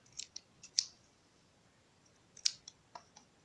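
Scissors snip through excess jean fabric while a hand-sewn purse is trimmed, giving several crisp, close metallic clicks in two short bursts with quiet gaps between.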